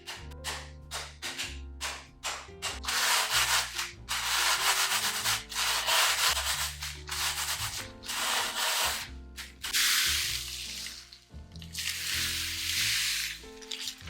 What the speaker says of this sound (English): crush the graham crackers with a food processor or a Ziploc bag with a rolling pin